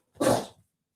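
A single sharp, breathy sneeze from a dog, short and close, followed by a faint snuffle, then silence.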